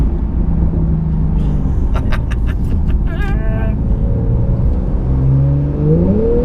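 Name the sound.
sports car exhaust crackling on overrun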